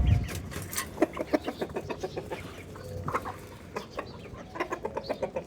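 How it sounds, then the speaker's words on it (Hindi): Farm chickens and a rooster clucking busily after being let out of their coop onto open ground, with rapid overlapping clucks close by and no talk. "मुर्गियों को खोलते हैं।"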